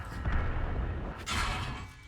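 A tank gun fires in a tank video game and the shell strikes the armor of a Chrysler tank, giving two heavy booming blasts with rumbling low ends, close and loud, one after the other.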